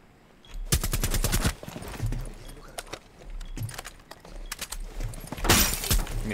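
A teammate firing on the player in Rainbow Six Siege: several loud, close bursts of automatic gunfire separated by short pauses, with rattling, crackling impacts between them.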